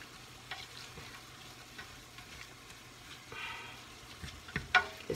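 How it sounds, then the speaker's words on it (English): Vegetables and minced garlic for cabbage soup stirred in a pot, a soft quiet sizzle under occasional scraping strokes, growing into a few louder clatters at the end, with no talking. "just stir that around for like 3 to 5 minutes, or 2 minutes, I would say."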